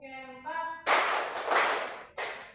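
A group claps hands in a counted rhythm, producing broadband bursts that come in a few loud sustained stretches, with a voice heard just before them.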